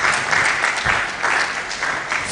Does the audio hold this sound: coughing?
no